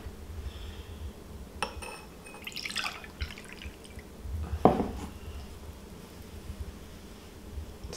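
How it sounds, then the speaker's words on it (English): Cloudy turmeric hydrosol being poured into a glass cup, faint trickling and dripping with a few light clinks of glass, quiet and close with no voices. "As usual, I gotta pour this out into the glass cup."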